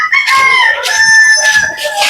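Native chicken rooster crowing up close, a loud, drawn-out cock-a-doodle-doo with a few overlapping calls and clucks from nearby fowl.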